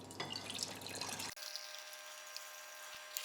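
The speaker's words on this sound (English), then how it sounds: "we can grab all the juices from the lamb cook, we'll pour it into a pot" Juices from a slow-cooked lamb shoulder pour into a pot in a steady wet trickle, then cut off abruptly, leaving faint kitchen room tone with a soft drip.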